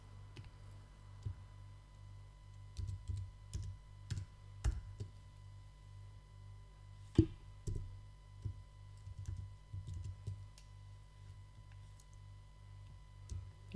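Keyboard typing while entering text for a tutorial in Adobe Illustrator: scattered soft key clicks in irregular bursts over a steady low hum, quiet and close, with no talking.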